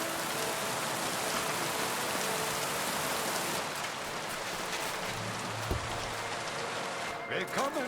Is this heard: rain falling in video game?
yes